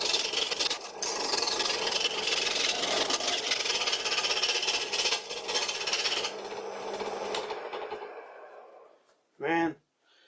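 Wood being turned on a homemade wooden lathe at 1000 RPM, a steady loud rasping, scraping cut with chips flying, fading out near the end, followed by a brief voice.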